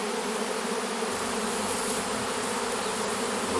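A large swarm of honey bees buzzing around a hive set in grass: a dense, loud, continuous hum that stays steady and close throughout, with no voices.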